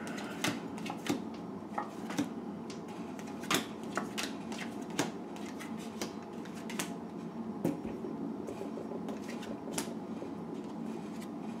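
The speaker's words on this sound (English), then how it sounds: "I think I have to shuffle these." Tarot cards are shuffled by hand in quick, irregular riffling and slapping bursts, close by and fairly soft, continuing without pause and with no talking.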